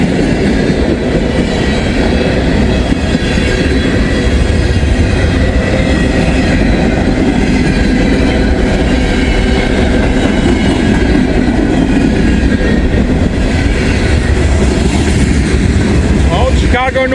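A freight train rolls past close by, with a loud steady rumble and rhythmic clacking of wheels on rail joints. Brief talk is heard over the noise.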